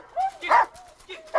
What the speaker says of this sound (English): This is audio from a video of Mark training a dog